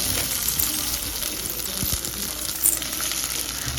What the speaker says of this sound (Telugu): ఒక ప్యాన్ పెట్టుకొని దాంట్లో కొద్దిగా ఆయిల్ వేసుకొని మనం కట్ చేసి పెట్టుకున్న పచ్చిమిర్చి ఆనియన్స్ని ఫ్రై చేసుకోవాలి